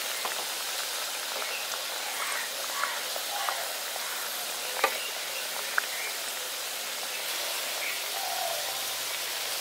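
Biscuits frying in hot oil in a pan after being flipped, a steady soft crackling hiss with a few faint pops, fairly constant throughout.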